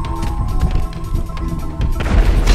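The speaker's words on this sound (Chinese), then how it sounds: "一声爆炸之后再出去" An explosion in the video game GTA 5 during a vehicle fight with RPG fire: scattered dull thuds build to a loud, booming burst near the end, with no talking over it.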